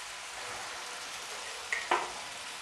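Boiled chickpeas dropped into a pan of frying tomato and spice masala, a steady soft sizzle with a brief clink and splash near the end, close and quiet.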